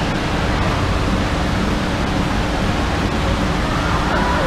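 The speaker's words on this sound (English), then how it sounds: "it's time for the waves." Waves in a waterpark wave pool churn as a steady, loud broadband rush of surging water that runs without a break from start to end.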